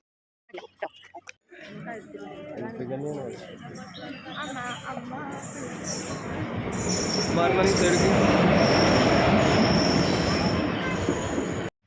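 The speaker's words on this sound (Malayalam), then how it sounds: "ട്രെയിനിലാണ് നമ്മൾ പോകുന്നത്" Train wheels screech loudly on the rails with rumbling carriages, the noise building and staying intense, after a few brief sounds at the start.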